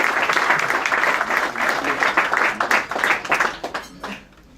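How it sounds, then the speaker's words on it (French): Audience applause at a restaurant award ceremony in Paris, a dense burst of clapping that thins and fades out near the end, with faint voices underneath. "Aussi, on peut l'applaudir."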